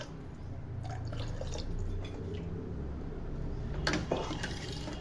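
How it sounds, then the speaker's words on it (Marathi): Water poured into a cooker of pigeon pea rice, a steady trickling and dripping pour running throughout, close and moderately loud, with a brief brighter splash near the end. "आता पाणी घालूया अंदाजे."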